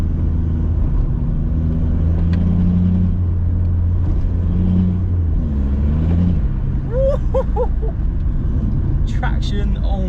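A Skoda Fabia vRS hatchback accelerates hard, its engine a steady, droning rumble heard from inside the cabin, with rising and falling tones as it revs through the gears; a voice speaks over the engine near the end.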